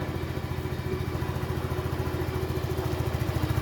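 A Flex 125i motorcycle engine runs at a steady idle, a low rhythmic putter with even pulses continuing throughout at moderate level, no voices.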